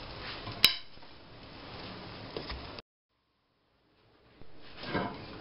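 A frying pan is pulled off the stove after cooking scrambled eggs, with a sharp metallic clank followed by soft rattling of cookware and utensils, then a brief silence and more faint kitchen clatter.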